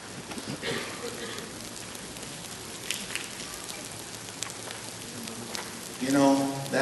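A church congregation taps fingers on their palms to imitate rain, a dense, soft patter of many small taps spread through the room, steady with slight swells, and a voice briefly heard near the end.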